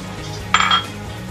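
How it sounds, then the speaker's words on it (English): A single short clink of a utensil against a bowl while stirring a cornstarch and coconut milk mixture for Maja Blanca, brief and moderately close over quiet background. "and give it a good stir."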